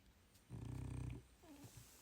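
A dog snores indoors, giving one low rumbling, purring snore of about a second, followed by softer breathy snuffles, close and quiet with no talk.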